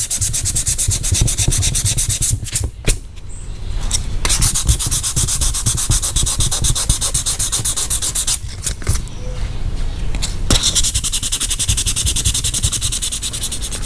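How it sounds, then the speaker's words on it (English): Steady back-and-forth hand sanding of fiberglass door panels for a 1974 Chevy Caprice with folded 180-grit sandpaper, a continuous coarse rubbing hiss that stops briefly twice and then carries on. "I finally finished up with all the sanding."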